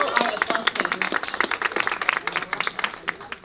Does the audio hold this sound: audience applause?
yes